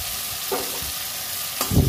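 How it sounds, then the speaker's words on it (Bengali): Spice masala fries in a pan with steady sizzling, stirred a few times, with a louder scrape and clatter of the spoon near the end; close and fairly loud, with no voice. "ভালো করে কষে নেব।"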